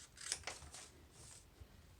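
Scissors snip through folded paper for a rainbow suncatcher, a few quick crisp cuts close by with short pauses between, fairly faint.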